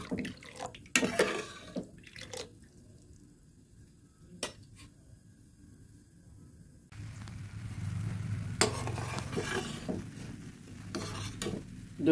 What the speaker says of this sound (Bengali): আস্তে আস্তে দুধটা এবার জাল করে নেব।